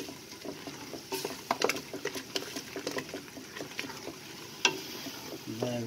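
Cumin, ground coriander, red chilies and curry leaves frying in a pan, a close crackling sizzle with scattered pops and spoon scrapes against the pan.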